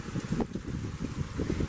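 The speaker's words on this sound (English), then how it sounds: "This is windy." Gusty wind during a lightning storm buffets the microphone in low rumbling surges across the short stretch, steady and fairly loud, with no talk.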